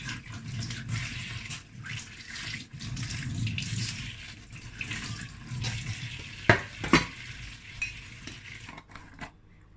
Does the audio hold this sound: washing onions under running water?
yes